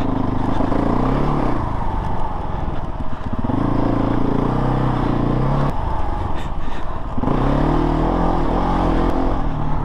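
A modified KTM 690 Enduro single-cylinder dual-sport motorcycle runs fast along a dirt trail, its engine loud and close throughout, revs rising and falling with gear changes and throttle.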